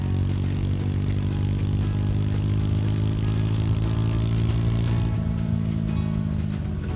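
A Triumph Scrambler 400 XC motorcycle engine drones steadily while riding, with a constant low throbbing hum and wind rush that eases slightly after a few seconds, close and loud throughout.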